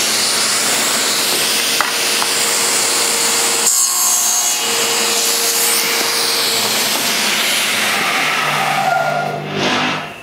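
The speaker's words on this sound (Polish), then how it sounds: "Włączymy piłę." A Felder sliding panel saw cuts through a sheet of blockboard, giving a loud, steady whirring rasp of the blade in wood that holds for several seconds, then winds down at the end.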